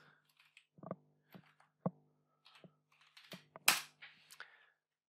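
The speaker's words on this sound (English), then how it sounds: "type the Y and then just hit enter" Keys tapped one at a time on a computer keyboard during setup of a Raspberry Pi, sparse, close clicks spaced roughly half a second apart, with one louder, sharper press near the end.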